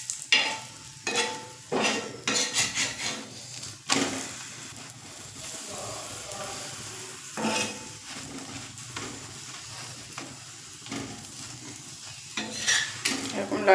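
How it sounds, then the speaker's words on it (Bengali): Spinach parathas deep frying in hot oil, a steady sizzle running throughout with repeated louder bursts of stirring and scraping as each one is turned, no voices. "এরকম লাল লাল করে প্রত্যেকটা পরোটা ভেজে নেব।"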